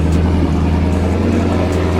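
A twin-turbo 5.0 Ford Mustang engine gives a loud, close, steady low drone, holding a deep sustained rumble throughout.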